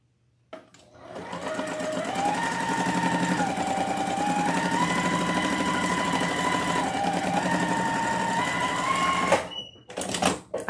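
A sewing machine stitches a felt peacock wreath attachment, running steadily and loudly for about nine seconds with a buzzing mechanical whir, then stopping, followed by a few small clicks and handling noises.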